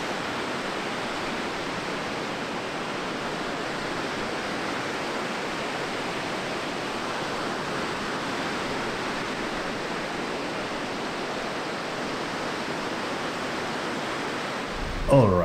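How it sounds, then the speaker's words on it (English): Raging lake waves breaking near a power plant, a loud continuous roar of churning surf that fills the whole stretch evenly, with a brief thump at the very end. "The lake was raging that day."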